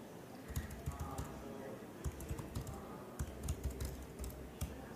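Rapid, close clicks of terminal commands being typed on a computer keyboard, irregular keystrokes in short bursts with a soft room hum underneath.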